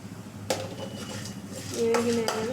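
A spoon clinks and scrapes against a pan as cumin seeds are stirred into curry leaf powder: a few sharp metallic knocks over a low background, with a voice partly underneath.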